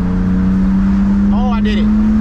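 A BMW E36 with a manual gearbox drives along, a steady loud engine drone with a brief rising rev, and a voice speaking over it.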